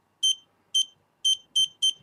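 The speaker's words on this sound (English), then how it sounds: "the sound from it's like a buzzer" Five short, sharp electronic buzzer beeps from a Dovpo E MECH vape mod, evenly spaced about half a second apart with the last few coming quicker, loud and close against near silence.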